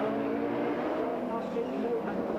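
Rallycross cars race at Brands Hatch's Druids bend in 1991, an Audi sliding wide, with a steady distant engine roar and faint tyre noise under continuous commentary.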